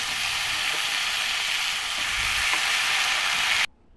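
Loud, steady sizzling of nigella seeds frying in a little hot oil in a wok, continuous for several seconds before cutting off abruptly.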